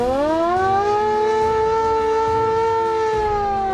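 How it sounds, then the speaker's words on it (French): A German air-raid siren at a reconstructed WWII anti-aircraft battery in Normandy, wailing as its tone rises and then holds a loud, steady, harmonic-rich howl close by, with no speech. "Il y a même la sirène qui servait à réveiller les gars en cas d'alerte"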